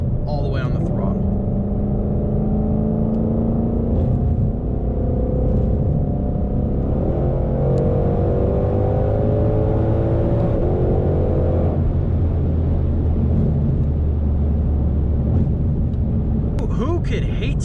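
A Ford Shelby GT500 engine at full throttle, heard from inside the car as a loud, steady roar that rises through the revs, drops with a shift and then climbs again, with a voice talking over it.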